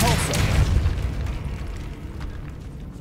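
A Depulso spell blast in the Hogwarts Legacy video game, a single loud, booming burst at the start that rumbles and fades over a few seconds.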